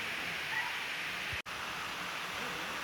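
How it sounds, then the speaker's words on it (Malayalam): Madathcharuvi waterfall pouring down from a hill, a constant soft rushing hiss of falling water with one brief dropout midway. "ആ മലയുടെ മുകളിൽ നിന്നും ഇങ്ങനെ ആരംഭിച്ചു വരുന്ന ഒരു വെള്ളച്ചാട്ടമാണ്"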